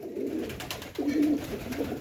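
Pigeons at a sale coo close by, a low throaty burble rising over a murmuring background with faint chatter.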